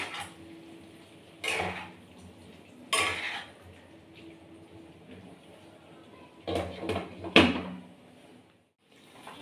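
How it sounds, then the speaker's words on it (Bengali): A cooking-pot lid for a green jackfruit curry lifted and handled: several loud metallic clatters and scrapes in separate bursts, the heaviest cluster near the end, over a quiet low background hum. "আমি এবার ঢাকাটা খুলে দেখে নিচ্ছি।"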